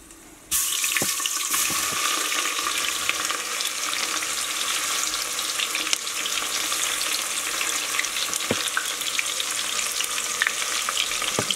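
Onions and spices sizzling in hot ghee inside a pressure cooker, a steady loud frying hiss that starts abruptly and continues without pause, with a few faint clinks.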